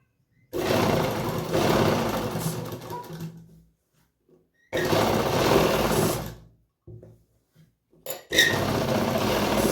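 A sewing machine stitches straight seams on a heavy Patiala salwar in three loud, close runs of fast whirring, with brief pauses and soft handling clicks between them.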